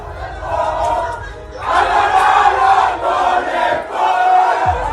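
A large crowd in Israel celebrates the release of hostages held by Hamas, a loud, dense roar of cheering and shouting voices that surges and swells in waves throughout.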